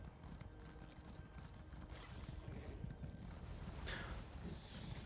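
Horse hooves thud in a steady galloping rhythm against a dense, noisy background of Elder Scrolls Online game ambience, with no talking.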